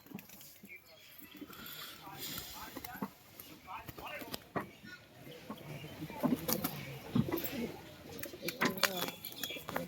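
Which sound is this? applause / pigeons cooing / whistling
pigeons cooing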